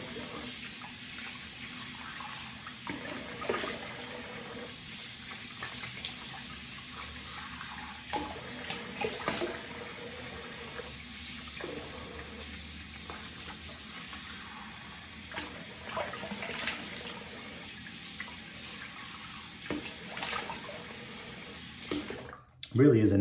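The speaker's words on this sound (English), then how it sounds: "So I'm gonna rinse with warm water and then cold." Water runs steadily from a tap for a long stretch as someone rinses off soap while wet shaving, first warm and then cold. A voice is faintly heard over it.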